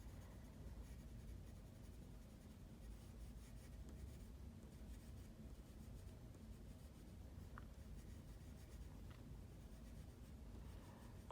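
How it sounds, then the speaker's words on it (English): A soft 6B pencil shades across paper in a steady, continuous scratchy rubbing that stays faint and close throughout, with no voices. "I'm going to use, I think this is my 6B pencil again."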